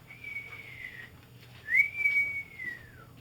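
A person whistles two long tones, the second gliding up then slowly sliding downward, imitating the whistle of a falling bomb.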